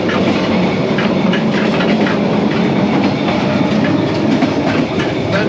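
A passenger train runs along the tracks in Vietnam, heard from inside the carriage as a loud, steady rumble with rhythmic clickety-clack from the wheels throughout.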